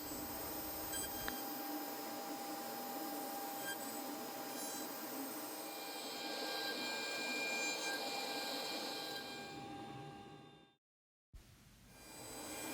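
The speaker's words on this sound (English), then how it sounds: "The finishing toolpath carves the final shape of the finial using a 3mm ball nose router bit." A CNC router with a 3mm ball nose bit carves a wooden finial, giving a steady whining, buzzing machine drone that runs continuously, then cuts out abruptly to silence before resuming briefly.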